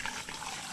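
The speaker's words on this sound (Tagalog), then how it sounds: "Ang lakas ng tubig. May ano yan, water pump na nakakabit." Water gushing strongly from a motor-driven water pump on a rural farm, a brief steady rush of splashing flow heard close and alone.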